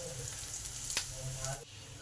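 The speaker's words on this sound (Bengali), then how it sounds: "এই রসুন আর লঙ্কাটাকে ভালো করে ভেজে নেব।" Chopped garlic and dried chili fry in oil in a pan with a steady, soft, close sizzle that hisses evenly throughout, with a faint stir in the middle.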